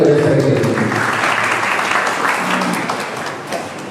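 An audience at an annual community meetup bursts into sustained applause, dense and loud at first and gradually thinning, with some voices mixed in.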